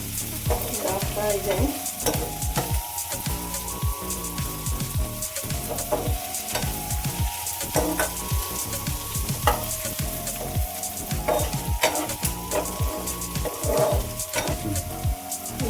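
Onions frying in a pan until golden brown for a Mangalore-style chicken sukka, with a constant close sizzle and repeated stirring scrapes; a brief spoken remark comes near the end.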